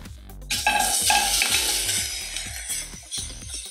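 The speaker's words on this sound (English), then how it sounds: "Make sure you get that stirred around in the butter." Pressed garlic, about five or six cloves, stirred in hot butter in a pan: a loud, continuous sizzle with spoon scrapes and clicks against the pan, close up and without any talking.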